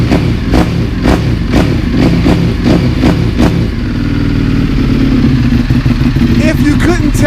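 An EBR 1190 RX motorcycle engine is blipped through a crisp throttle in repeated sharp revs, then settles into a steady, loud idle, close by.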